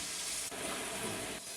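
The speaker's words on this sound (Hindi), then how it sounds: "टमाटर को सॉफ्ट होने तक हम भून लेंगे" Tomatoes fry with browned onions in a pan of beef pulao, giving a steady close hiss of sizzling with a brief shift partway through.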